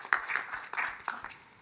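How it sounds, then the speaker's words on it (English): Quiet applause at a university convocation meeting, a thin patter of a few people clapping with audible individual claps and small bursts, fairly faint and close, with no talking over it. "Can we give them a round of applause too?"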